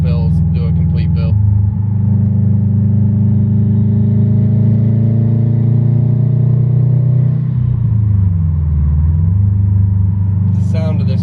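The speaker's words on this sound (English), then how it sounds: "The sound of this car is absolutely amazing. You get the big turbo noises" A turbocharged Subaru STI engine rumbles and drones steadily at close range, its pitch sweeping up and down with bursts of throttle, while a voice talks briefly at the start and end.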